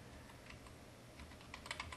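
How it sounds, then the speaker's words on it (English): Keys on a computer keyboard click in light, scattered taps that grow into a quicker cluster of keystrokes near the end, close and fairly soft with no talking. "Hit the Enter key to commit to this change and exit the text box. Simply press Enter on the keyboard."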